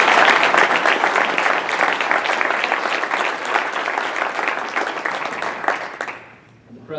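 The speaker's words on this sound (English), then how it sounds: "Let's give them a big round of applause." An audience at a Columbia Rotary club meeting gives a big round of applause, a dense, loud patter of many hands clapping that gradually thins and fades out near the end.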